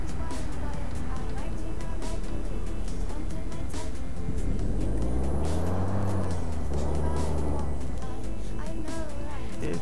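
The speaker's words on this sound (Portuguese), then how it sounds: "eu acho o ronco do caminhão muito bonito esse aqui" A truck engine in the Euro Truck Simulator 2 game roars low and rises and falls in pitch mid-way, mixed with other traffic noise while someone talks over it.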